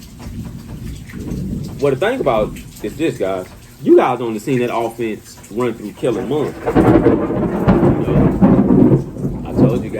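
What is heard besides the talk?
thunder and rain during storm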